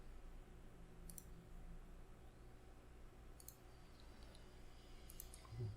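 A computer mouse clicks a few times, sharp and fairly near, spaced out over a low steady hum in a quiet room.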